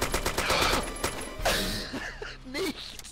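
Rapid bursts of gunfire in the video game DayZ crackle and pop over a dense, busy soundscape, with a few sharper shots standing out near the end.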